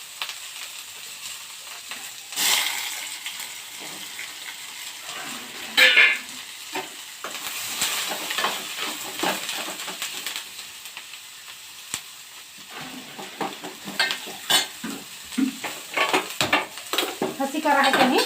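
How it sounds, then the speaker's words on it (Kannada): Spices tempering in hot oil in a village kitchen pan in North Karnataka, a steady crackling sizzle punctuated by sharp pops, spoon stirring and scraping against the metal pan, moderately close with no talking. "ಒಗ್ಗರಣೆ ಹಾಕಿಂದ ಗ್ಯಾಸ್ ಹಚ್ಕೊತಾನೆ"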